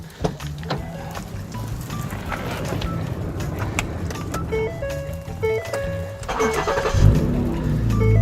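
A Ford Flex engine runs steadily at idle during tire pressure sensor programming, with a continuous low hum, repeated short electronic chirps and beeps over it, and a louder rumble near the end.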